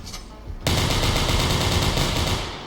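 Rapid automatic gunfire in the video game Receiver 2, a loud continuous burst starting abruptly and sustained for about two seconds before tapering off.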